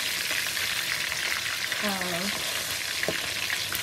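Pieces of salmon frying in a pan, a steady close sizzle with light scraping as the pieces are turned, and a short voiced sound partway through.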